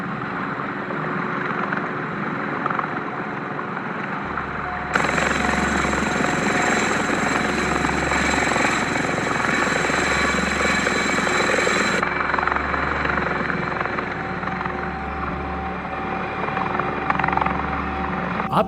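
A Chinook helicopter roars steadily overhead, its heavy rotor thrum and turbine whine holding loud and continuous, swelling once as it draws nearer and staying close throughout.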